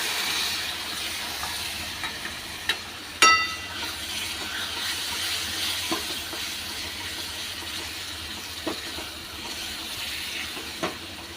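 Water poured into sautéed masala in a hot pan sets off a steady, fairly loud sizzling hiss that continues throughout, with a few faint clicks and knocks of utensils.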